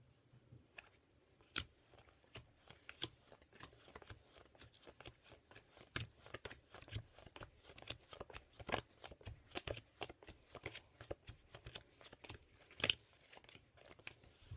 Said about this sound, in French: je vais faire deux petits tas en mettant un à droite et un à gauche